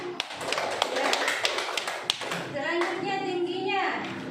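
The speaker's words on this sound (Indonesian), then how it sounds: "tepuk tangan untuk kelompok 2 dan 1 ya" A classroom of students claps for two student groups, dense overlapping applause with sharp hand taps close by, fading into children's chatter and voices toward the end.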